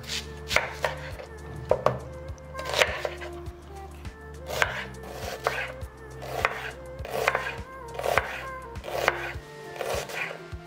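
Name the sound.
chopping a red onion with a knife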